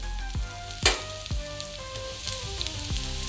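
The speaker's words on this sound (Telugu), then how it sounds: "డీప్ ఫ్రై అయ్యే వరకు ఆనియన్స్ ఫ్రై చేద్దాం" Onions deep frying in oil in a pan, a continuous bright sizzle with repeated sharp scrapes and knocks of a spatula every half second or so, close and fairly loud, with no talking.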